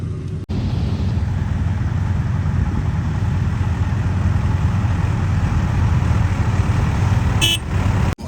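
A farm machine runs during the harvest of the PB-1847 wheat variety, giving a continuous loud, close engine drone with a steady low rumble that cuts out abruptly at the very end.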